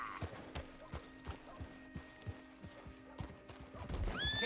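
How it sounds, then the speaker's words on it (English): Horse hooves clip-clopping in a steady rhythm, with a whinny near the end, from the video game Red Dead Redemption 2; fairly close with no talk over it. "Get a hold of that horse, will you?"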